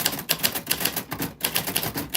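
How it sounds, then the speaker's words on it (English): Keys struck on a typewriter in steady rapid clacks, each with a crisp mechanical snap, close and clear with no voice over it. "Okay, so Erin, that's what your name sounds like on the typewriter"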